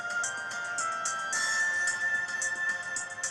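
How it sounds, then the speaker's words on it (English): Bright, looping electronic video game music plays steadily, with a repeating chiming melody and no talking over it. "I can hardly hear you over the music, Ryan."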